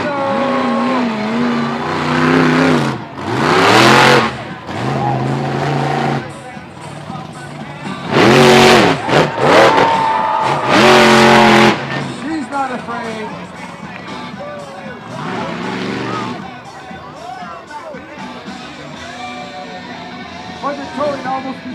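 A 1,450 horsepower monster truck engine revs in loud, repeated surges at a fairfield event, the roaring bursts rising and falling between steadier idling, with an announcer's voice and crowd noise underneath.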